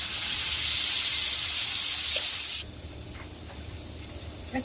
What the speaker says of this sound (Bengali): মশলা কষানোর জন্য একটু পানি দিয়ে দিব।